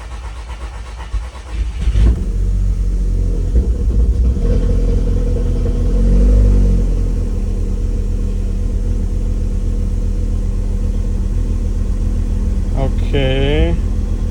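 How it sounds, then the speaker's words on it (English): A Volkswagen Scirocco R engine cranks and catches at about two seconds, then settles into a loud, steady, rough-sounding idle with a misfire. A brief voice is heard near the end. "Oh no, I've heard a misfire."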